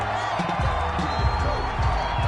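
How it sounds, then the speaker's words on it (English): A home football crowd at a Colts vs Steelers NFL game roars in approval of a call. It is a dense, sustained wash of distant cheering with a commentator talking over it throughout. "This home crowd, they're happy with that call."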